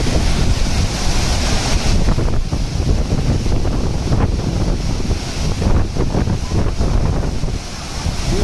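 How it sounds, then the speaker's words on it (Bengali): Loud, steady rush of the Jonha waterfall near Ranchi pouring down fills the scene, a constant broadband roar with gusty fluctuations, close to the microphone. "ঝর্ণাটা পুরো মাথার উপর পড়ছে"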